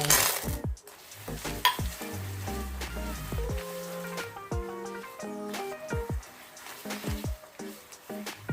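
A spoon stirs a simmering chocolate mixture in a pot over low heat, making soft, irregular scraping and bubbling sounds under faint tonal background music.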